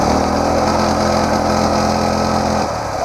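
A home-built drift trike's small engine runs steadily at a loud, constant buzzing idle close by, then dips slightly at the very end.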